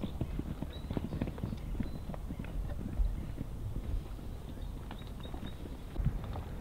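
Hooves of wild mustangs near the Salt River by Phoenix, Arizona clip-clop in a steady, unhurried walking rhythm on hard ground, several animals nearby, with faint outdoor background noise.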